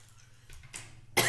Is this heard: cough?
yes